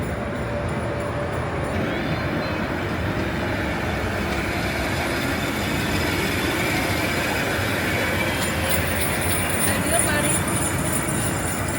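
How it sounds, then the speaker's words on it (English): A small model train rumbles steadily around its track circling Christmas trees, with a continuous whirring hum and faint wheel squeals, running without pause. "having the model trains circle the Christmas trees"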